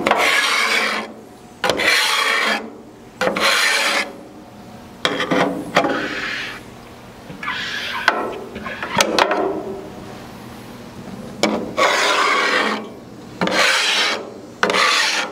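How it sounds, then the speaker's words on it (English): A metal scraper dragged across the surface of a Halo 4B griddle in long, loud, close rasping strokes, separated by short pauses. "little squeegee tool on this scraper. I'm gonna scrape some of it too."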